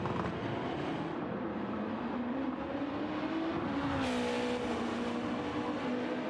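Race cars on the Interlagos circuit in a racing video game, a steady engine drone with shifting pitch that rises briefly, running continuously with no talk.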